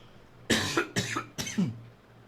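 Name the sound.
coughing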